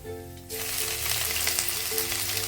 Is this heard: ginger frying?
yes